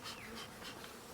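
Honeybees buzz in an opened nuc hive during brood frame work, a dense close hum with individual bees droning past, fairly soft and continuous throughout.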